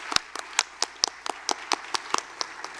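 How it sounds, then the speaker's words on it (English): Sparse clapping at a regional educators awards and scholarship program, honoring sponsors; about a dozen distinct, fairly close claps sound at an uneven, loosely spaced rhythm rather than a full crowd ovation. "Please give a round of applause again for all of our sponsors and their generous contributions to future"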